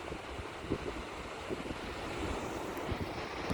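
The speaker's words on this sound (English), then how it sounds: "This is the Pacific Ocean down at Ocean Shores, Washington." Pacific Ocean surf at Ocean Shores, Washington rumbles as a steady, moderately distant wash of waves mixed with wind buffeting the microphone, with no voices.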